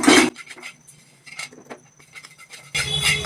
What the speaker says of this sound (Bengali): তো এবার কালো জিরাটা শুধু একটু নেড়ে নেব